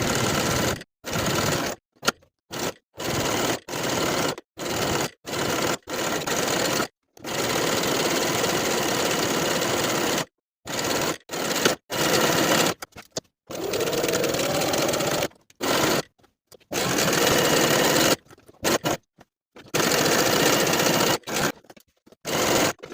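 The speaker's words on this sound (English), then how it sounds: "Now I'm ready to take it to my machine and sew right on top of my drawn lines." A sewing machine stitches quilted jacket fabric along drawn lines, running in loud, close bursts of rapid whirring with short silent pauses between runs.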